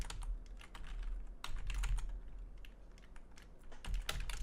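Fingers type on a computer keyboard close up, a quiet, fairly quick run of uneven key clicks with short pauses between bursts.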